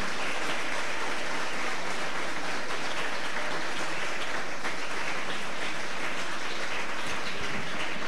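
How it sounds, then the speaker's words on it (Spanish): Dense, sustained applause from a school ceremony audience honoring grade 10 and 11 students, loud and continuous with no talking over it. "Vamos por favor a dar un fuerte aplauso a los estudiantes de grado 10 y 11."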